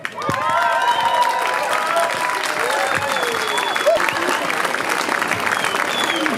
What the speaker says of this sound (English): please come forward with a big applause